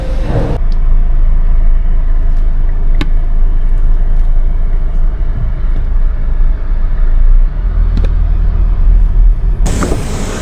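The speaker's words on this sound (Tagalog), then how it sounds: "pinapainit ko muna yung makina ng sasakyan" A parked car's engine idles to warm up, a steady low rumble running close and continuous throughout, with a brief click or two and a louder shift at the very end.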